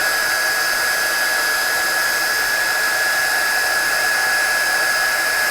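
A hand-held air dryer blows across wet watercolour paint, giving a loud, steady, close-up rushing whoosh with an even high whine that runs unbroken throughout, with no talking.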